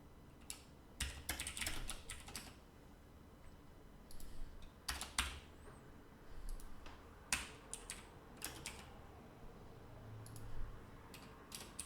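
Someone types on a computer keyboard while working in Visual Studio, producing close, irregular bursts of key clicks and clacks with short pauses between them.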